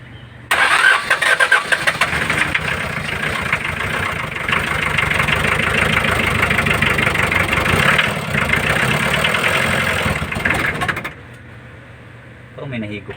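An old-model Mitsubishi L300 van engine, first start after three years, cranks and catches, then runs loudly with a rough, steady idle before the noise drops off near the end.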